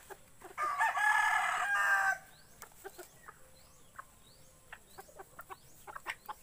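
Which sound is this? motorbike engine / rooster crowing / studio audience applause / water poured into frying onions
rooster crowing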